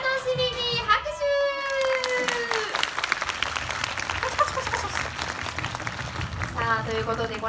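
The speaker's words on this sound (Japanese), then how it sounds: "拍手。" Applause from the crowd at Funassyi's 2018 birthday event, lively clapping mixed with excited children's voices and chatter throughout.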